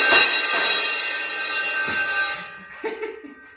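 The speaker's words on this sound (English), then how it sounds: "18-inch Sabin A8X explosion sounds like this" An 18-inch Sabian AAX Explosion crash cymbal struck a few times, bright shimmering wash decaying slowly, followed by a couple of quieter taps as it fades.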